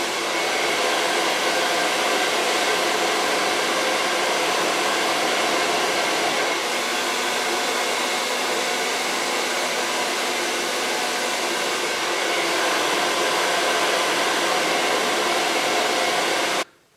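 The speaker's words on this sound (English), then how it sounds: "So, I've just finished blow drying" A hair dryer blows steadily and loudly at close range for the full length while long hair is dried, its even roar holding without pause until it cuts off abruptly at the end.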